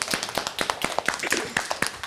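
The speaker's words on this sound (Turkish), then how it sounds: "Bir alkış." A small audience of kindergarten children and adults claps briefly at a nursery school event, with uneven, scattered hand claps over about two seconds, close by and moderately loud.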